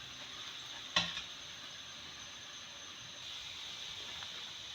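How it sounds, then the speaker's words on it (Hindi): Onions fry in oil in a pan for matar keema, a steady, even sizzle and hiss with a single brief clatter of stirring near the start. "और प्याज फ्राई हो रही है"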